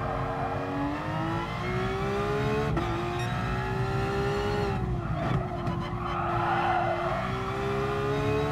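A race car engine in GT Sport revs steadily high toward 9,000 rpm, its pitch climbing and dropping through gear changes, with tire squeal and a constant loud roar, game-like and continuous.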